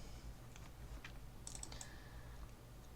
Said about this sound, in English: we'll type in another search for a different property